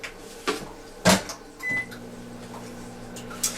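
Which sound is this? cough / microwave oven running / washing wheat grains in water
microwave oven running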